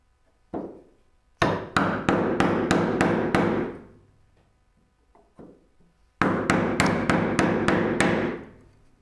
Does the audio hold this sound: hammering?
yes